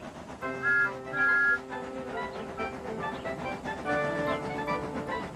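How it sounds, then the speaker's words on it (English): Several high steam engine whistle tones sound in short bursts, then a longer sustained blast, over a low rumbling mechanical background. "They whistled impatiently."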